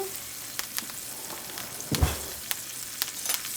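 Steak sears in hot oil with thyme and garlic, a steady close sizzle with small pops and a brief louder crackle partway through, no talking.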